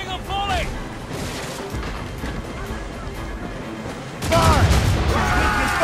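Ships fire a cannon volley in the Assassin's Creed Rogue naval battle, a rumbling roll of booms that swells sharply near the end, with shouted voices over it.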